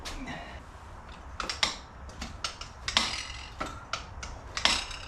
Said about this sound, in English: lift that lever all the way up, and it drops the pawl down to be able to ratchet